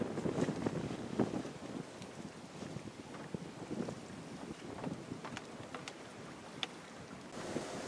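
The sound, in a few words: sailboat sailing in wind off California coast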